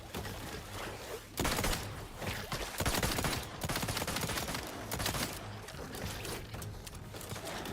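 Rapid automatic gunfire from a fast-firing gun in The Outer Worlds 2 rattles in loud, sustained bursts with brief pauses between volleys.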